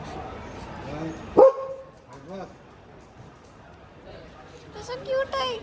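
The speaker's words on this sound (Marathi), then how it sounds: "डॉगी" A dog barks outdoors in Goa, one sharp loud bark followed by a few softer yips and whimpers, with people chatting around it.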